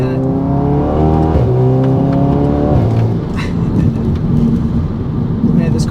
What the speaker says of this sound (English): Man, this car still pulls so hard.